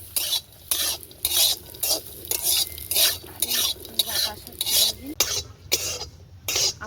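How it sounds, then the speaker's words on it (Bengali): Cashews and raisins frying in ghee on a clay village stove, stirred with a utensil in a pan: rhythmic repeated scraping strokes over a steady close sizzle, loud and without talk. "আমার কাজু কিশমিশটা ভাজা হয়ে গিয়েছে"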